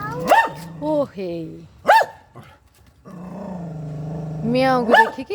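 A dog barks at a cat on a rooftop, giving several close, sharp barks and drawn-out growling yelps in bursts, with voices in the background.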